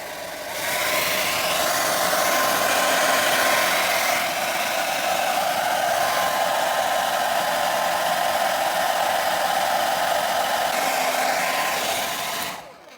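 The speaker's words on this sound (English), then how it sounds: "heat on the hairdryer, just a medium heat" A hair dryer on medium heat blows steadily and loudly for the whole stretch, a continuous whooshing hum with a mid-pitched motor tone, aimed at a JVC DR-MH20 HDD DVD recorder under repair, and cuts off at the end.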